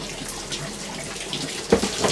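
Water running steadily through a Fiat 500 engine during a flush, a continuous close hiss and gush like a tap, with a brief splashy surge near the end.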